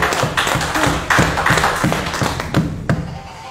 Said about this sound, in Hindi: तालियों से इस्तकबाल किया जाए